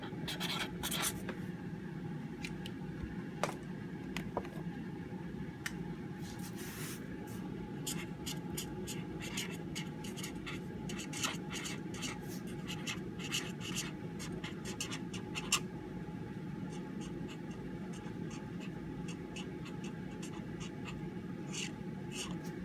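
Pen scratching steadily across a handmade notebook page, a soft continuous scraping with faint ticks and taps, close and alone with no talking.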